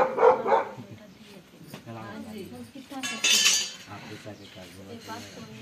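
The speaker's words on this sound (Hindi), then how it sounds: "वो कोई चीज गिरी है, कुत्ता ने, कुत्ते ने गिराया है।" A dog knocks over kitchen items, and dishes and cutlery clatter and clink in a couple of sharp bursts, mixed with dog barking and a person talking nearby.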